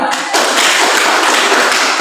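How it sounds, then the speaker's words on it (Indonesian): Loud, dense applause fills a classroom as students clap for a classmate, bursting in after a brief pause and holding steady to the end. "Oke, tepuk tangan untuk dia"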